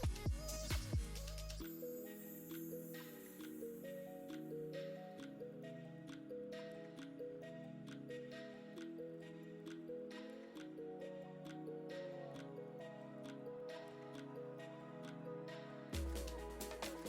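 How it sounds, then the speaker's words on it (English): Chopped tomatoes stirred into cooked meat in a pot: close, wet squishing and soft drips with scraping strokes under steady background music. "I'll be going in now with my chopped tomatoes, and then I'm going to stir this."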